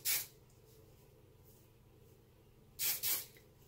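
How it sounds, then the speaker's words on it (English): Hairspray misted onto hair roots in short hissing bursts: one quick spray at the start, then two close-together sprays near the end, with quiet in between. "you want to spray the roots a little bit."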